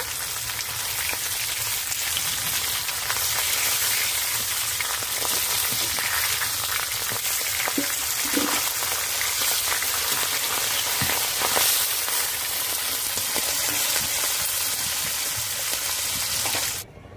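A fish head coated in salt and turmeric sizzles loudly in hot oil, with a constant crackling hiss and a few dull knocks as it is turned in the pan.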